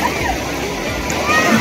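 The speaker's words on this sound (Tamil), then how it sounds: "எந்த அளவுக்கு ஓட்டம் இருக்கு பாருங்க, தண்ணி சரியான ஓட்டம்." Strong river water near Papanasam rushes and sloshes in a loud, continuous roar, heard close by throughout.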